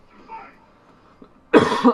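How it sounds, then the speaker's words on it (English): A single harsh cough bursts out close to the microphone after a stretch of faint background murmur, during Street Fighter gameplay commentary. "Sorry for coughing in your ear."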